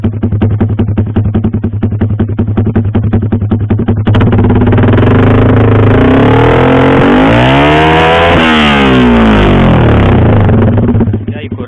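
A Yamaha R15 V3 motorcycle with a WRX GP6 exhaust idles loudly up close, then revs hard into a roaring, rising and falling scream over several seconds before dropping back to idle.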